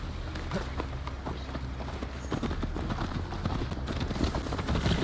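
Galloping horse hooves clip-clop steadily and close while riding in Assassin's Creed Valhalla, a continuous rapid rhythm over low ambient game sound.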